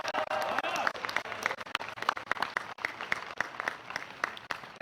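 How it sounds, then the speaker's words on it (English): Audience applause fills a graduation ceremony at a military academy, with dense sustained clapping from a large crowd throughout, fairly close and steady, with a few voices mixed in near the start. "Please give William a round of applause"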